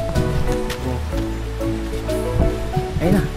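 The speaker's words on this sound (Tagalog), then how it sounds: "Naririnig ko na rin yung agos ng tubig mula doon sa falls." Flowing water of Taytay Falls, a cold waterfall in Laguna, rushes as a steady broadband wash throughout, with voices talking over it.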